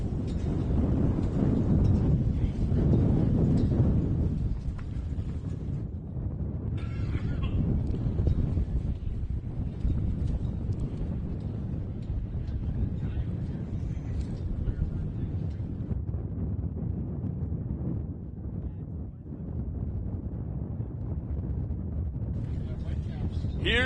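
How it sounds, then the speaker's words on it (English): Strong wind buffets the microphone with heavy low rumbling gusts that rise and fall throughout, while a person talks over it from an announcer's tower at a racing event. "It is so windy that the spray from the water truck is getting up here in the tower."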